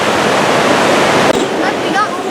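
Water rushing down into Park Creek Canyon near Sly Park, a steady loud broadband roar like a waterfall, with faint chirping or voices appearing near the end.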